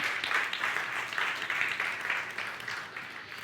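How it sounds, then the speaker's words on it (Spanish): A church congregation applauds during a worship service, a dense, steady wash of clapping that swells and eases slightly over a few seconds. "Dale un aplauso al Señor"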